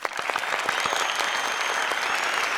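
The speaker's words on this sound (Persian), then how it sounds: "دوستای ما نام خدا خوب تشویق میکنن" Audience applause at a live show, a dense burst of steady clapping from a crowd, loud and continuous throughout.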